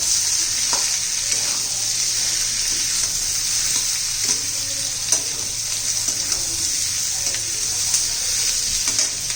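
Raw papaya pieces sautéing in a hot pan, a loud continuous sizzle with frequent scraping stirs from a spatula, heard up close with no talking.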